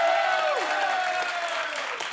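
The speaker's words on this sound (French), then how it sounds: "On l'applaudit." A television studio audience breaks into applause, a dense burst of clapping that slowly fades over two seconds, with a musical tone sliding beneath it.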